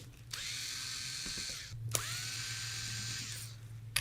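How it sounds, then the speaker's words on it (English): Small power driver whirring as 2.5 mm cap screws are backed out of the top rail of an FX Impact air rifle, two sustained high-pitched runs with a brief click between them, close up. "Now you're going to remove all these cap screws on its top rail."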